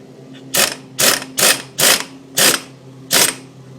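A ratchet clicks round a 32mm socket on the rear wheel hub of a 1998 Subaru Impreza during a wheel bearing job: six sharp, evenly spaced ratcheting bursts, close and loud, with no talk.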